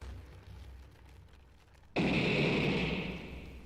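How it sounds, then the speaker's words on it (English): Explosion in the video game Midnight Train, set in a mine: after a low rumbling stretch, a sudden loud blast bursts in and holds as a broad roaring wash that slowly fades, with no talking. "Oh, God, explosion?"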